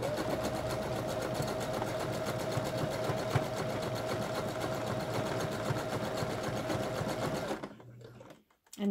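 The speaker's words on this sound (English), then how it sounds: "you're going to backstitch a little bit to make sure that is nice and secure where you have it" A sewing machine stitches a seam on ruched leggings, running continuously and fairly close for about seven seconds before stopping abruptly, with no talking.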